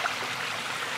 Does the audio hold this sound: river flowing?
yes